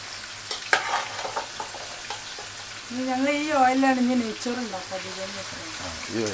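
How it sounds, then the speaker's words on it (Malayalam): Chicken fries in oil with a steady sizzle and a few stirring clinks, while a voice speaks over the crackling partway through. "ചിക്കൻ പൊരിക്കാൻ തുടങ്ങി ഇതിന് ഈ ഓയിൽ തന്നെ മതി"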